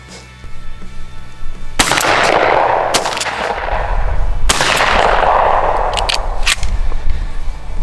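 A turkey shotgun fires outdoors while ammunition is being patterned: two loud, close, booming blasts a few seconds apart, each trailing off in a long rolling echo, with no talk.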